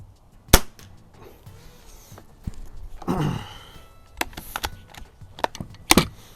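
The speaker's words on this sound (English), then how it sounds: "Just do a couple of 5-shot groups and see how it does." A Walther LGR air rifle shoots a 5-shot group: sharp, close individual cracks spaced irregularly over several seconds, with faint handling clicks and a soft exhale in between.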